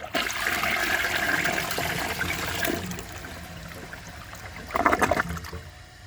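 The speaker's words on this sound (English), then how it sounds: "I'm going to flush it and see how it does" A 1992 Peerless Hancock toilet with a leaky flapper flushes, a steady rushing swirl of water that eases into a quieter trickle, then a brief louder gurgle near the end.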